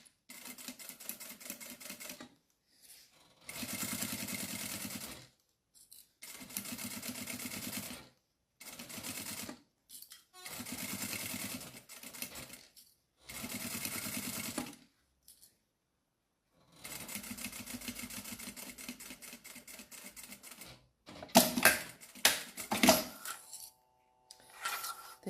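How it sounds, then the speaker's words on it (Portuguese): Home sewing machine running a topstitch seam at stitch length 4, repeated bursts of fast mechanical whirring and rattling separated by short pauses, ending with sharper clicks and clacks. "Vou voltar a aumentar para ponto tamanho 4 aqui a costura de rebatimento que eu vou fazer aqui com a minha máquina."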